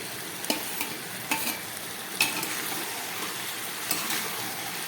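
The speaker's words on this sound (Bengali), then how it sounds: "খুব ভালো করে এবার এটাকে আমি এর মধ্যে মিশিয়ে নিচ্ছি" Fried fish heads are stirred into Malabar spinach (pui shak) in a pan, giving a steady frying sizzle broken by several distinct scraping stirs of a spatula, close and fairly loud, with no voices.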